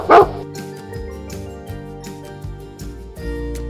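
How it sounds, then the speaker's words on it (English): A dog barking, starting with one loud close bark followed by quieter yips and whimpering sounds over a musical background. "The dog barks."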